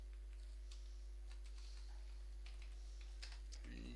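Quick, faint tapping on a computer keyboard while Java code is written, an irregular patter of key presses over a low steady hum, with no talking.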